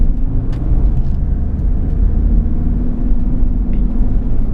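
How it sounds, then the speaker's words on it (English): A Mitsubishi Pajero NT with automatic transmission pulls away, its engine giving a close, steady low rumble throughout without clearly distinct gear shifts. "So what I'll do now is just drive off, and you can watch it changing gears."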